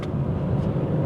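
A BMW 840i engine on the move rumbles low and steady, with a constant road drone that stays loud and even throughout, no voices.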